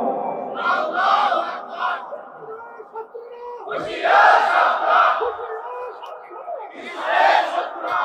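A large crowd at a religious sermon shouts slogans in unison, loud rhythmic chant bursts rising and falling in several waves with short gaps, echoing through an open gathering.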